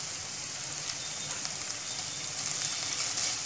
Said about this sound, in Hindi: मिक्स कर लेंगे इसे भी अच्छे से, और इसे अच्छे से फ्राई होने देंगे